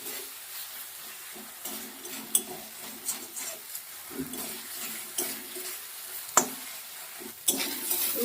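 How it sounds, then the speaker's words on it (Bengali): Spice paste fries in oil in a pan for Bengali fish curry (macher jhal), a low bubbling sizzle under intermittent spatula scrapes and occasional louder knocks, near and steady, without speech. "আর একটু কষিয়ে নিই, তেলটা ছাড়ুক সে পর্যন্ত একটু নাড়িয়ে চাড়িয়ে ভালো করে মশলাটা কষাবো।"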